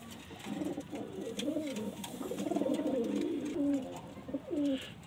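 Several Madrasi pigeons coo repeatedly in low, throaty warbles, close by, with faint background noise and no talking.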